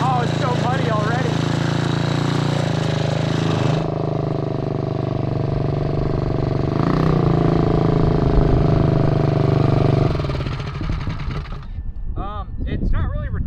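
A 4WD Power Wheels Bronco go kart's engine holds a loud, steady high rev instead of settling back to idle, then drops and sputters unevenly near the end, with a brief voice early on.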